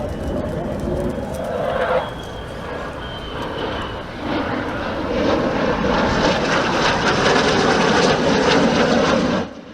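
A Spanish Air Force EF-18 Hornet jet performing a solo display at the Torre del Mar airshow roars loudly, the engine noise building in intensity and sweeping past before cutting off abruptly.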